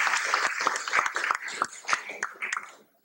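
Scattered audience clapping in a hall at a Vyasa Puja gathering in Dallas, the individual claps distinct and uneven, with a voice talking faintly underneath.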